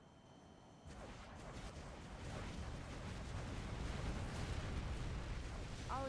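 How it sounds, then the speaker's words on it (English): A nuclear missile launches in a military strategy video game, a broad rumbling roar that swells after a quieter opening and holds loud and steady to the end, with no talking. "We have launched our nuclear missile."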